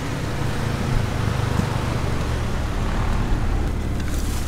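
Car fitted with a fresh B18C Type R engine heard from inside on a test drive, a steady low engine and road rumble with no distinct revving peaks.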